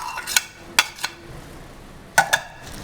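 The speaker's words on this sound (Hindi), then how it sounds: "इसको जो है सबको जो है चम्मच की मदद से जो है मिक्स किया जा रहा है" A spoon clinking and scraping against a bowl while fritter batter is mixed, a handful of sharp separate knocks spread out over a few seconds, close and fairly clear.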